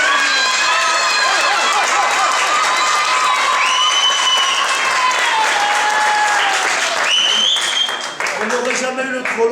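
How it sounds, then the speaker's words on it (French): Crowd at a carp fishing competition awards applauds and cheers loudly, with whistles and shouting voices over sustained clapping. "On les applaudit bien fort"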